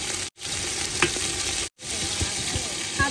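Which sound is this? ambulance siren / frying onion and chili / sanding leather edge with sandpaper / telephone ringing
frying onion and chili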